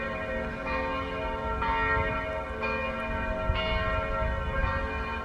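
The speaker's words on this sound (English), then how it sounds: "Church bells while we're working out." Church bells in St. Moritz, Switzerland toll in steady, evenly spaced strokes about once a second, their long ringing overtones blending into a continuous wash with no voices.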